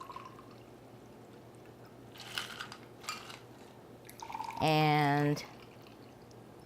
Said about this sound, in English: I like to put just a little bit in the bottom of a champagne glass, and then I'm going to pour this